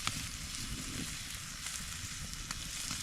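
Meat, onion and potatoes seasoned with salt sizzle and fry steadily in a pan over an outdoor campfire in hot weather, a dense continuous crackle with no talking.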